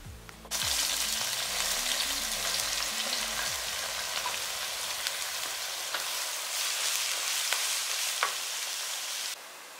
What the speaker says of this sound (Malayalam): ഒരു 5 സവാള അരിഞ്ഞത് നമുക്ക് ഇട്ട് വഴറ്റിയെടുക്കാം.